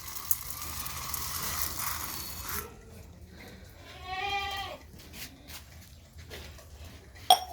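Wheat, safflower seeds and sunflower seeds pour onto a plate in a brief hissing rush of grain. A single animal bleat and scattered light clinks follow.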